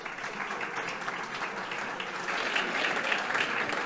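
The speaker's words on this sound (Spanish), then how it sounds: "Un aplauso para él." An auditorium audience applauds a guest coming on stage at a conference, a dense, steady wash of clapping that swells slightly toward the end, with no talking.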